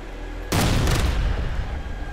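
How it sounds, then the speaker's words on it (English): A frag grenade explodes in the video game Ghost Recon Future Soldier, a single sharp, heavy boom over a low background rumble, followed by a lingering roar that decays over about a second and a half. "Frag out."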